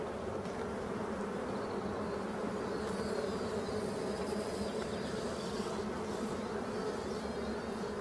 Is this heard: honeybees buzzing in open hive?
yes